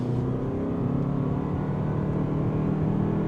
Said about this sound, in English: And yes, you do hear the engine, but it is nowhere near as loud as the last gen.